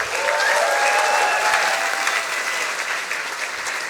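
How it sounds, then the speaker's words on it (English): A science slam audience applauds a speaker onstage, steady dense clapping filling the hall for about four seconds and easing slightly toward the end, with faint crowd noise mixed in. "Big applause for Tamanna."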